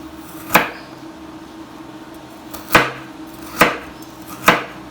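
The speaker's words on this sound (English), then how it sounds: "Next we chop the carrot. Here we'll make a little smaller cubes." A knife chopping carrot into small cubes on a board, four sharp, well-spaced thuds close up against a quiet background.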